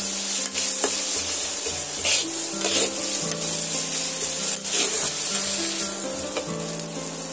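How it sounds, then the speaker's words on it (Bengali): Onions seasoned with salt fry in a pan for a rolled egg-and-flour snack, a steady close sizzle running throughout with occasional stirring scrapes and no voices. "পেঁয়াজটা আমি ভালো করে লাল লাল করে ভাজা করে নেব"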